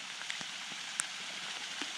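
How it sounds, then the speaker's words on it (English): Light rain pattering at a backcountry campsite, scattered close drops tapping irregularly over a quiet, steady hiss. "Rain's picking up here."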